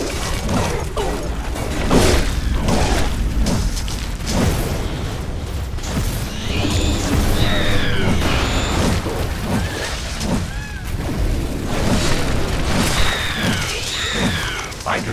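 Buildings and structures blowing up in the sci-fi base-building game The Riftbreaker: repeated booming crashes and bursts of destruction, with mechanical clatter and synthetic chirps layered over a continuous loud game soundscape.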